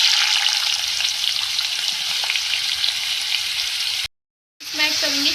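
Round gourd (tinda) frying with cumin and crushed red chilli in a pan gives a steady, dense sizzle with occasional stirring scrapes. It drops to a brief silence near the end, then the sizzle returns.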